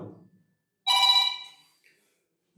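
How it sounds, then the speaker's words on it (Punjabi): A phone gives one short, bright electronic ring burst that stands alone in an otherwise quiet room, with a brief murmur before and after. "ਉਹ ਸਰ ਕੋਈ ਫੋਨ ਆ ਗਿਆ ਸੀ"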